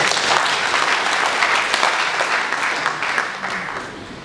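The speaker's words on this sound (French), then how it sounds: "Applaudissez pour vous-même." Participants applaud at the closing of a CENI electoral mapping training session: a dense, even burst of hand clapping from a room full of people that gradually thins and fades toward the end.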